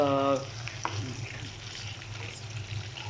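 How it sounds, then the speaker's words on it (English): Sheri fish fries in a pan with a low, steady sizzle and faint crackle, close but quiet, after a brief tonal hum at the start. "Let it get fried very well, and with the spatula flip it every 5 minutes."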